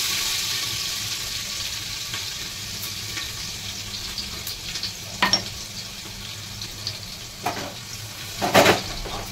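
Crushed garlic and cumin fry in hot oil after mustard seeds have spluttered, giving a continuous close sizzle broken by a few sharp clinks and scrapes of stirring.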